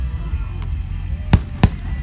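Two loud, sharp firework blasts at an outdoor firework show, spaced a fraction of a second apart, booming over a quieter crowd murmur.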